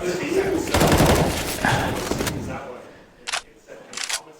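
A loud, rapid burst of automatic gunfire sprays in Counter-Strike during a 2019 StarLadder Berlin esports match with NRG. The burst is dense and crackling for about two seconds, followed by a few separate bursts as the action continues.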